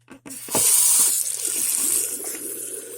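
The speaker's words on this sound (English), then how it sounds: "Turn on the cold water now," Cold water gushes steadily from a kitchen tap into a sink, a loud, continuous hiss and splash that follows a couple of soft knocks.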